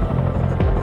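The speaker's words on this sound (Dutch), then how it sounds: "Je ziet hier een vliegtuig opstijgen" A propeller airplane taking off at an airborne landing reenactment in Ede, heard as a steady, throbbing engine drone that swells briefly near the end.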